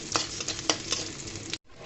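Dried chilies and chopped garlic fry in hot mustard oil with a steady sizzle and a few sharp crackles, cutting off abruptly near the end.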